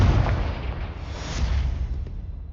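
A Confringo spell explosion in the Hogwarts Legacy video game: a loud, sustained fiery blast with a booming low rumble that fills the whole moment and fades slightly at the end.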